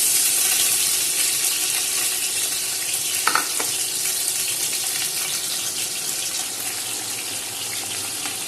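Onions frying in about a cup or more of oil for beef haleem, a steady broad hiss and sizzle at close range that runs continuously, with a brief clatter of stirring partway through.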